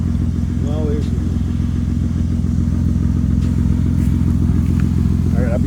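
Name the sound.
BMW E30 drift car engine running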